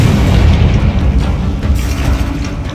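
Confringo spell explosions in the video game Hogwarts Legacy, a loud, sustained booming rumble with rolling low-end blasts that fill the whole stretch, no talking.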